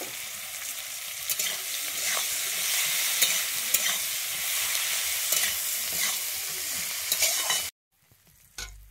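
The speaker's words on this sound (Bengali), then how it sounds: "এখানে আমি পেঁয়াজ কুচিয়ে নিয়েছি আগে থেকে। আমি এখানে 4টা পেঁয়াজ কুচিয়ে নিয়েছি, দিয়ে পেঁয়াজটাকে দিয়ে দিচ্ছি।" Four chopped onions sizzle in a pan for a chicken butter masala, a steady broadband frying hiss with periodic stirring scrapes, close and continuous for nearly eight seconds before cutting to near silence.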